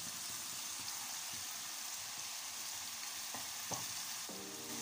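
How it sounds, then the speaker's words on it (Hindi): Eggplant pieces fry with masala for an aloo baingan curry, giving a faint, steady hiss with a few soft stirring scrapes near the end and no voices. "और इसको भी मसाले के साथ अच्छी तरह से भून लूँगी।"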